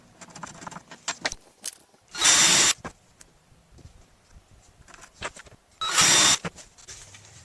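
Power drill driving number 6, 1-inch 316 stainless steel wood screws through a latch on a fiberglass and foam mini-pontoon boat bench seat: two short loud whirring bursts a few seconds apart, between quieter clicks and handling sounds.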